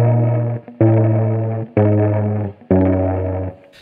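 Guitar string plucked with a large wooden peg clipped onto it, four separate sustained notes of equal length, each with a dull buzzing, distorted tone that rings and then cuts off.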